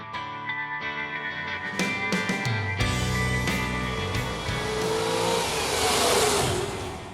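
A Ferrari 250 GT exhaust rises from a mid-pitched idle into a swelling, full-throated acceleration, the engine note climbing steadily and growing louder and rougher toward the end, with no talking.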